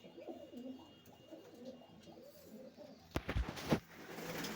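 Soft, low pigeon coos repeat gently in the background, followed by a brief burst of rustling and clattering near the end.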